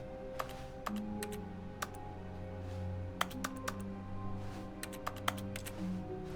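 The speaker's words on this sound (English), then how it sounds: "So when I click, it makes the keyboard sound." Clicks in The Stanley Parable set off keyboard typing, irregular clacking keystrokes in scattered bursts over a humming game ambience, close and distinct, with no speech.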